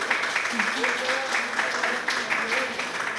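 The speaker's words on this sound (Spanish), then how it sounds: "Les pido un aplauso por favor para Jimena." An audience at an evening talk on innovation and local government applauds a guest speaker with steady, dense clapping that carries on for a few seconds under a faint voice.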